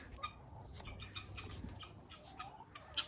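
Chickens on a small farm clucking softly and steadily for a few seconds, close by, with a little rustling and one brief sharper squawk near the end; no talking.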